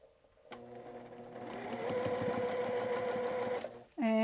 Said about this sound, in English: it's going to tell me I need to sew a couple strip sets here